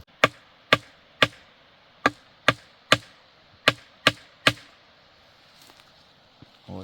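Nine sharp wooden knocks, a signal imitating Bigfoot, ring out at the Patterson–Gimlin film site in uneven groups, loud and echoing in open woods, then silence follows.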